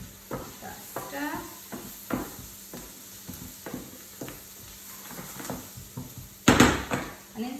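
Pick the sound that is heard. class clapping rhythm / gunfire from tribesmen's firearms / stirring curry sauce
stirring curry sauce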